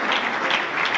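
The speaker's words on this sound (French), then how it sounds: "Est-ce qu'on peut applaudir pour monsieur le recteur?" A university ceremony audience applauds the rector, a dense, steady wash of many hands clapping at once.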